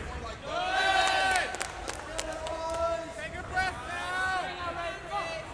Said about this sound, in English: You can hear his team cheering for him